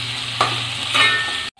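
Onions sizzle steadily in hot oil while making vegetable aval upma, with a couple of stirring scrapes, then the sound cuts off abruptly.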